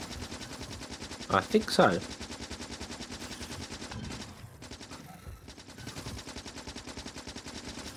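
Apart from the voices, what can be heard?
machine gun fire in the video game Factorio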